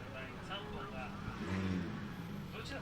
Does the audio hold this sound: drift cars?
yes